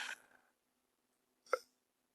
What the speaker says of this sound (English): pardon me if I keep burping because I think I'm taking these fish oil pills